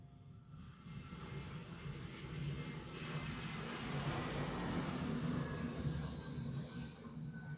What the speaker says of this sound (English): you might hear a lot of airplane sounds